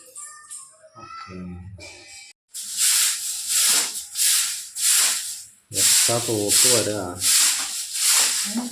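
A broom sweeps a floor during home cleaning, giving repeated close, scratchy brushing strokes in a steady rhythm. A voice is heard briefly near the start.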